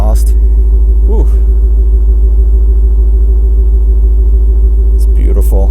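Engine of a 2000 BMW M5 with a Dinan exhaust idles loud and steady up close, a deep continuous burble throughout, with brief bits of talk near the start and end.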